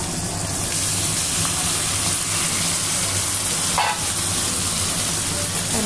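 Chicken meat sizzles loudly and steadily as it hits onions fried until reddish in a pan, a dense continuous hiss with no talking.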